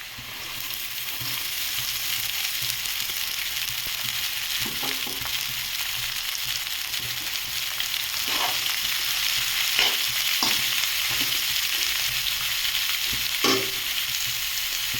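Shredded cabbage sizzles steadily in a hot pan, a constant crackling hiss with occasional soft clicks of stirring, no voices.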